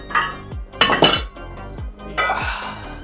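Metal weight plates, 25-pound ones, clink and clank as they are handled and slid onto a barbell, with a few sharp metallic hits and rattles close by; no talking.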